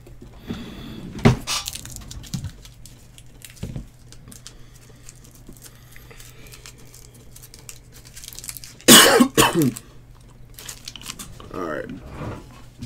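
Loud coughing bursts near the microphone around the middle, with a couple of earlier throat-clearing sounds amid faint crinkling of a wrapper during a sports card box opening.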